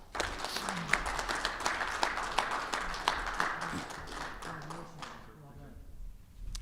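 A crowd at an awards ceremony claps steadily in sustained applause, dense and fairly even, fading out toward the end.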